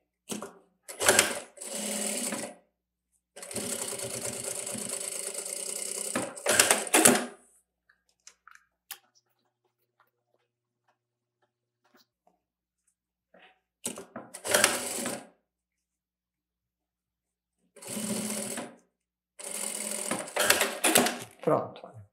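A sewing machine runs a safety seam on a fabric bag that turns into a pouch, in several close, rapid whirring bursts of stitching separated by quiet pauses.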